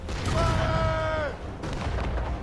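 Ship cannons fire in a naval battle in Assassin's Creed Rogue: dull booms and crackling blasts roll through a loud, continuous din of combat, with a shouted voice rising over the noise early on.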